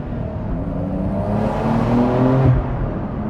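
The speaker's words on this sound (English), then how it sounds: "And the rev match downshifts are very good as well." Porsche 911 GTS Cabriolet engine blipping through rev-matched downshifts, a dense loud engine note with rising and falling harmonics swelling toward the middle of the burst, no talk.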